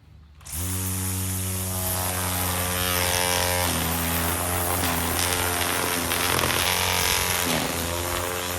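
Electric side cutter trimming grass edges in a backyard, a steady high motor whine with strong harmonic hum running continuously and loud close by, pitch dipping briefly a few times as it bites into grass.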